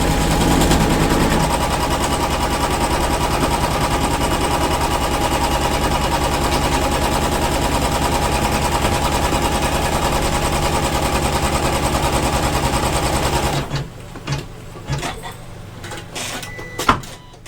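A sewing machine stitches out a pattern outline, its fast rhythmic needle chatter running loud and unbroken for about thirteen seconds, then stopping, leaving faint handling clicks and taps.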